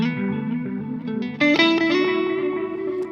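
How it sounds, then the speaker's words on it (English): Electric guitar notes ring out through a Strymon analog-voiced delay pedal, repeating echoes trailing behind them, a warm delay sustaining the tones, clear and fairly loud with no talking. "it's going to be just a nice analog voiced delay"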